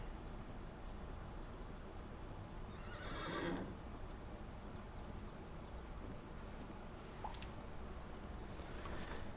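A horse whinnies once in the middle of a video game, its call rising briefly over a steady ambient bed of background noise, with no clip-clop clearly standing apart.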